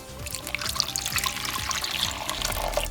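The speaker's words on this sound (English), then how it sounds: "But what if you added water?" Water poured into a container of ash, a close, steady trickling pour with bubbly gurgles lasting throughout, no voices.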